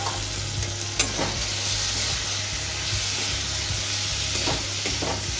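Fried potatoes stirred into a frying Bengali fish curry in a pan, a loud continuous sizzle and hiss with scraping stirs throughout, close up and without speech.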